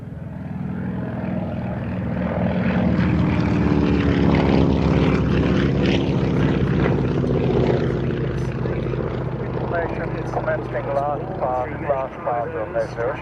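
A Beechcraft Model 17 Staggerwing in civilian markings, a radial-engine propeller biplane, drones loudly and steadily overhead as it flies past, its engine note shifting through the pass, with a voice talking over it.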